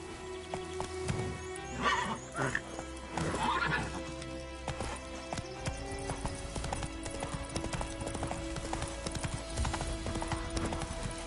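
Roach, the horse in The Witcher 3, gallops with steady, close hoofbeats and an early whinny, the footfalls continuing in a rapid even rhythm.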